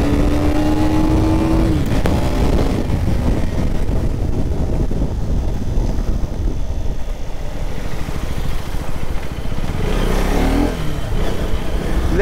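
A 2024 KTM 250 Duke accelerates hard on a wide Bangalore road, its engine note climbing briefly before heavy, loud wind rush swamps the ride, with no voices.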